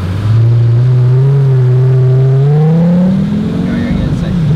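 A car engine revs hard up to about 4,000 RPM, its loud, close tone climbing steadily in pitch before easing off, with voices heard faintly underneath.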